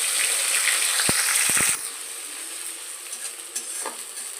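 Tomato and dried chilli paste poured into a kadai of cumin, dried chilli, bay leaf and whole garam masala frying in oil, a loud hiss with a few utensil clicks that drops to a softer sizzle, no talking.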